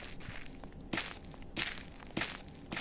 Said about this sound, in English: And some footsteps in my right and left.